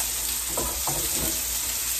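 Food sears in a hot pan on a home stovetop, giving a steady, loud, close sizzle with a few faint clatters underneath.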